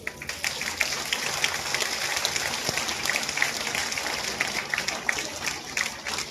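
An audience at a Marathi political campaign rally for a BJP candidate claps steadily in a dense, continuous patter that holds at an even level throughout, with a speaking voice faintly underneath.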